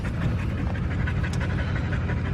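A dog pants rapidly and steadily up close, breathy and continuous, with no voices over it.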